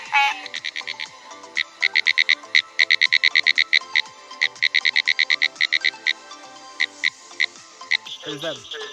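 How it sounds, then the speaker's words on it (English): A barking tree frog calls at night in Georgia, its rapid repeated nasal notes close and steady, mingled with other frogs chirping in the background and a brief voice at the end. "There's that barking tree frog there"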